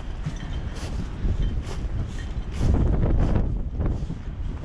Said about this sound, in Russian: Такое ветрище боковое сумасшедшее, просто с ног сдувает.